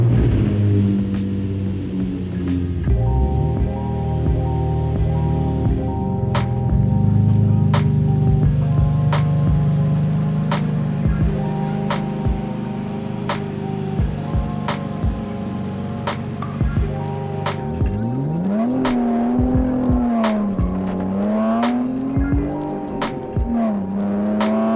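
A Nissan 350Z drives around the block after a full fluid change, its engine droning steadily with rising and falling revs, gear shifts and a couple of clear throttle swells near the end, heard from inside the car.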